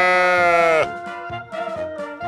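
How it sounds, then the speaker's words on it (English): A sheep bleats in a long, loud, wavering cry, followed by a few shorter, quieter bleats, heard alone with no talk. "Oveja, sheep, oveja,"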